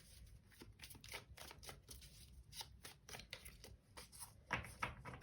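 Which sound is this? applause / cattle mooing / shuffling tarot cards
shuffling tarot cards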